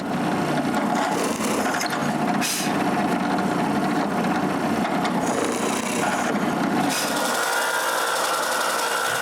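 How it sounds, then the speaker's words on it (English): A drill boring holes into the corners of wooden cryptex ring pieces, a continuous loud grinding whir with brief pauses and shifts in pitch, ending in a lighter steady tone. "I need to drill a hole in each corner"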